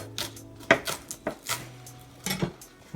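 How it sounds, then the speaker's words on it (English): A knife rough-chops trimmed green onions on a cutting board, giving a series of irregular close, sharp knocks and taps with short gaps between them. "A little rough chop."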